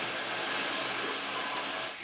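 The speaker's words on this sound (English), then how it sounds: "Next job now is to put some bacon on." Bacon rashers frying on a hot, fat-greased metal shovel in a Victorian farm setting, giving a dense, continuous sizzle that stays steady and fairly loud throughout, with no talking.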